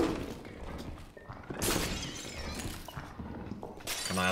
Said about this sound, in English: that's why the weapon's shattering